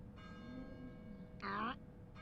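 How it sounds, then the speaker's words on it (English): Bell tower bell in the video game Getting Over It with Bennett Foddy: a faint, sustained ringing tone, then a brighter, louder struck peal that quickly fades. "I can hear something that sounds like a bell. A bell tower bell."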